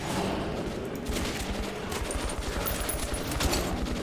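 Sustained rattling gunfire in Metro 2033 Redux, a fast volley of shots continuing steadily at moderate volume for several seconds.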